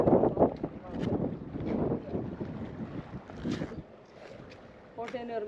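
Sea breeze at Hamilton Fort on a hot day, gusting across the microphone as low rumbling buffets that rise and fall, with people talking over it.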